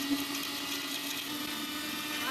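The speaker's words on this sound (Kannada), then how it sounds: "ಮೊದಲಿಗೆ ಜೀರಿಗೆ ಚಕ್ಕೆ ಲವಂಗನ ಪುಡಿ ಮಾಡ್ಕೋಬೇಕು." An electric mixer grinds cumin, cinnamon and cloves into powder, giving a continuous steady high whirring drone with a constant motor hum throughout.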